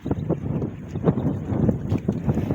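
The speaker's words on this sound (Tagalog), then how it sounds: "Ang lakas ng alon. Lakas ng hangin." Strong wind roars against the microphone in pulsing gusts, with the rumble of a fishing boat on rough, wavy water beneath it.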